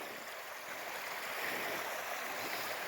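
Forest stream after recent rains in a wilderness area, a steady broadband rush of flowing water, fairly faint and distant, continuous throughout with no voices.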